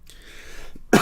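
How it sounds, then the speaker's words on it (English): A single short, sharp cough bursts out at the very end after a faint breathy lead-in, close to the microphone. "Can't stop coughing."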